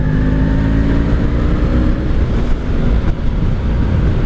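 A loud, rumbling 1984 Honda V65 Sabre 1100 motorcycle engine revs steadily close by, its throaty roar holding for several seconds without pause.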